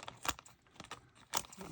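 Leatherman ARC or Victorinox multitool scissors snip through paper in a few sharp, close cuts with crisp crinkling between them. A short gap separates the quiet strokes.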